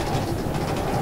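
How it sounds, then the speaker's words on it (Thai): A steady rumbling train in the Minecraft video game, heard only briefly as a continuous rolling clatter with no talk. "มันเสียงรถไฟ"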